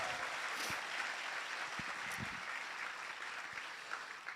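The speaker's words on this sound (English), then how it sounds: "Give them a round of applause." Steady audience applause for nursing students at a nursing pinning ceremony fills the room, a dense wash of clapping that holds at an even level for a few seconds.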